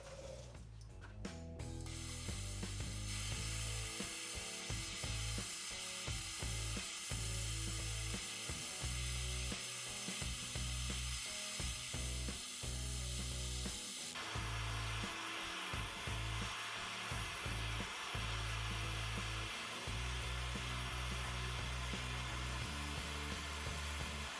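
Torch roaring steadily as it heats a clamped aluminum seam for brazing with Alumiweld rods, a continuous broadband hiss with shifting tone and clunks, loud and close throughout with no talking.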